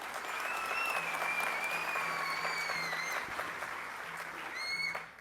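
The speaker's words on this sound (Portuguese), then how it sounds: "Uma salva de palmas, por favor, pessoal." Steady applause from an audience at the launch of a parliamentary front for capoeira, even and sustained throughout with faint whistles or tones above it and no talk.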